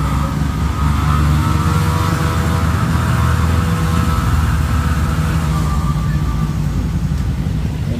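A freshly overhauled Kawasaki Barako 3 motorcycle engine runs close by, a loud, steady, unbroken roar that holds the whole time without pauses.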